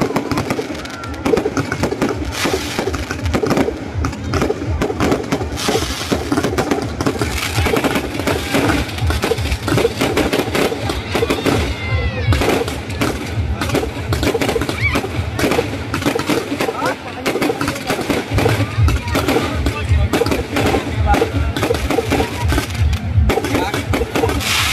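Firecrackers and fireworks bursting at a Vijayadashami Ravan Dahan celebration in Bhatgaon, Surajpur, Chhattisgarh, heard as a dense, loud, continuous crackle of rapid pops with crowd noise and talk mixed in throughout.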